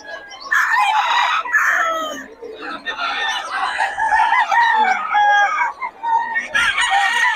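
Fighting stag roosters crow repeatedly and loudly nearby, their calls overlapping with clucking from other fowl, while people talk faintly in the background.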